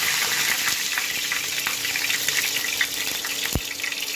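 Chicken for a spinach chicken dish boiling in a pot with salt, bay leaf and whole spices, giving a steady close bubbling hiss with soft watery churning and one brief low thump near the end.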